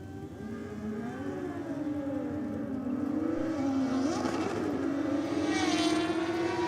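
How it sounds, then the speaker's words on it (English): A street-bike drag racer's Jexa 1000 motorcycle makes a loud pass on a drag strip, its engine note climbing steadily with an uneven gear shift midway, sustained and close throughout. "a little bit of a weird shift there for one of those bikes"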